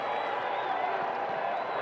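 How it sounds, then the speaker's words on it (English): A baseball crowd in the right-field stands at a Mariners–White Sox game makes a steady, broad roar of cheering and scattered applause. The sound is continuous and moderately loud, with no single voice standing out. "Crowd getting into it here at right field."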